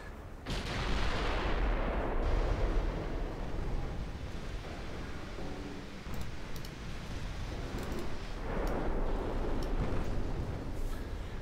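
Naval guns firing in a dreadnought-era naval warfare game, including 3-inch guns: heavy booming blasts with long rumbling decay and roaring background, recurring over several seconds and filling the sound, with no voices.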